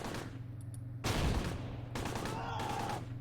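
Gunfire crackles during a World War II melee in the video game Close Combat, with dense bursts of shots and explosive bangs coming in two clusters over a low, constant hum.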